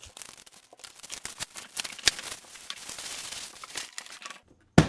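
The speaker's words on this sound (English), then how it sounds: "You've got bubble wrap protecting the sides, so let's cut this open." Crinkling and tearing of plastic wrap and bubble wrap as packaging around a lighting fixture's road case is cut open, a close run of quick crackles and rips with a sharp snap near the end.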